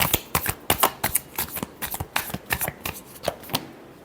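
Tarot cards shuffled by hand, a rapid run of crisp riffling bursts and soft slaps coming close and clear in uneven clusters for about four seconds, with no talking over them.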